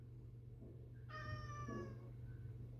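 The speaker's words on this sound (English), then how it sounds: "What do you want, kitty?" A single drawn-out cat meow, clear and close, lasting about a second over a steady low background hum.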